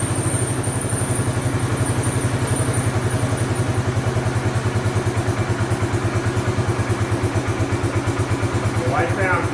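A Bombardier Quest 650 ATV engine idles close by with a steady, even throbbing pulse and a mechanical clatter, holding a constant rhythm throughout.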